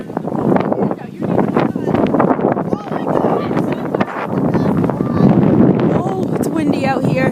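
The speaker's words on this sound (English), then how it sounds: "Oh, it's windy out here." Strong wind roars and buffets a microphone outdoors during Winter Storm Nemo at Easton, with deep snow on the ground, a constant rushing noise under people talking.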